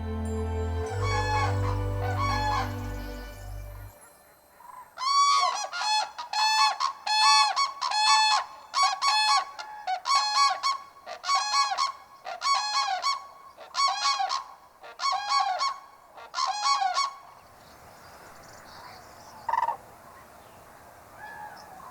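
Cranes call in a winter forest, a rapid series of about a dozen loud, trumpeting honk bursts in a regular rhythm, preceded by a brief low rumble and fading into quieter distant calls.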